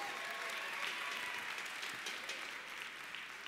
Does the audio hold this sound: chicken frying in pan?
no